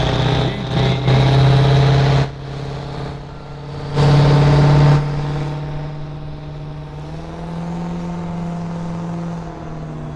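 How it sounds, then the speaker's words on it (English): A drag racing car in the 670 class at the NHRDA World Finals in Ennis, Texas, accelerates down the track, its engine note rising in two loud bursts over a steady motor drone while an announcer talks throughout. "So Dusty Brown taking Dad's ride down the track."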